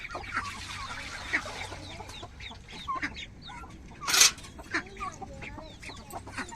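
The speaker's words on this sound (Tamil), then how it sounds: "இப்போ தாரா கோழி குஞ்சு எல்லாத்தையுமே திறந்து விட்டு இறங்கிக்க போகிறோம்" Hens, chicks and ducks are let out in the morning: a busy mix of clucking and cheeping fowl nearby, with one sharp loud call partway through and a low background hum throughout.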